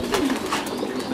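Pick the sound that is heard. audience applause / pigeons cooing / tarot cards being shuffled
pigeons cooing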